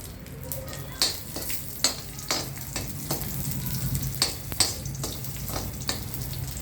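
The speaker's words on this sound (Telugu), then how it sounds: "ముందు నెయ్యి వేస్తాం కదా, ఆ నెయ్యిలో ఇవి వేయించుకోండి." Cashews and raisins frying in ghee crackle in a close, steady sizzle, with a spoon stirring and clicking against the pan at intervals, and a quiet voice heard faintly in the background.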